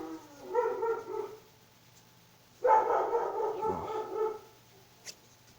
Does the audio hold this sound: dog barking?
yes